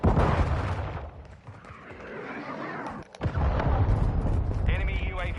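A cruise missile launches and blows up in Modern Warfare 2, a continuous heavy roar of explosions and rumbling gunfire, loud and close, with a brief dip before the blasts surge again and a voice talking underneath.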